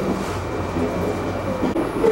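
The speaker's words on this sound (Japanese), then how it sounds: "今列車はスピードを落としてお隣の線路に綱渡りをするところです" Inside a commuter train near Matsushima slowing as it crosses over to the adjacent track from the Tohoku Main Line: steady low rumble and rolling noise with faint squeals, close and continuous.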